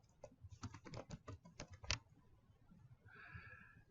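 Quiet clicking of keys on a computer keyboard, a quick burst of irregular taps lasting about two seconds before the typing stops.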